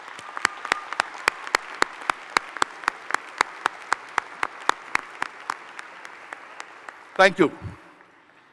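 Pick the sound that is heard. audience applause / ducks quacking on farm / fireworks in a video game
audience applause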